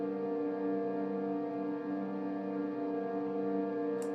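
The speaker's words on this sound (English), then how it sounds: "sustain the reverb tail" A dense, held guitar chord rings on as a sustained hall reverb wash from a Strymon Big Sky pedal, steady and unbroken, with no playing attack or voices.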